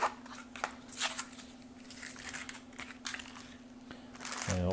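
Plastic packets from a 1987 U.S. military MRE ration being shuffled around, giving a close run of crinkling, rustling and light crunching under steady background hum, with a brief louder rustle near the end.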